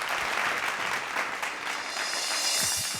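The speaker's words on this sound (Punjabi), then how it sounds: "ਇਸ ਲਈ ਇੱਕ ਵਾਰੀ ਜ਼ੋਰਦਾਰ ਤਾੜੀਆਂ ਮਾਰ ਦਿਓ" A studio audience at a Punjabi children's singing competition breaks into steady, continuous clapping, a dense, moderately loud patter of many hands lasting the full few seconds.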